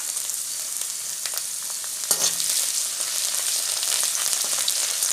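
Chopped ginger frying in hot oil in a pan gives a steady, close, crackling sizzle, with a brief clink partway through and the frying growing slightly louder afterward.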